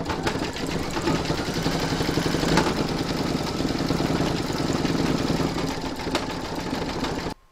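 A home embroidery machine stitches eye-colour thread on a large reindeer applique with a steady, close, rapid mechanical chatter that runs continuously before stopping abruptly at the end.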